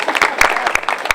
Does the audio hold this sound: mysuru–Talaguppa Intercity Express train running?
no